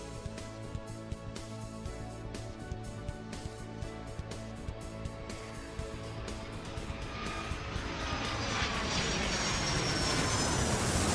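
Aircraft engines rumble steadily through a busy Airport Madness 3 air-traffic game, a low continuous drone that swells into a louder, broader roar toward the end.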